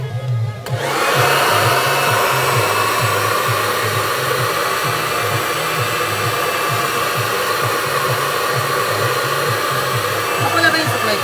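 A hair dryer blows steadily and loudly up close, a constant whooshing roar with a low pulsing hum beneath it, running without pause.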